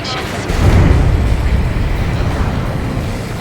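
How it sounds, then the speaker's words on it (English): A huge underwater explosion in the video game Ace Combat 7, a loud deep rumbling boom swelling up and rolling on under game noise, with talk faintly mixed in. "A huge explosion just went off underwater."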